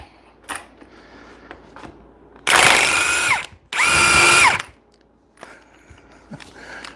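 A power tool fitted with a socket loosens lug nuts in two loud, close bursts of whirring and ratcheting, about a second each, separated by a short pause, with quieter clicks and handling noises before and after.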